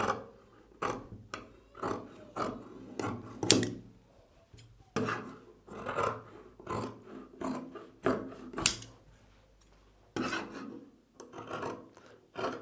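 Scissors cut through blouse fabric laid out for tailoring, one side at a time, in a steady series of close, dry rasping snips with short pauses between strokes.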